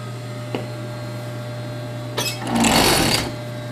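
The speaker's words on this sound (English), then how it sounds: "with the serger" A serger sewing machine overlocks fabric for a swimmable mermaid tail, its rapid whirring stitch starting up loud and close after a few faint clicks, running steadily for about a second before winding down.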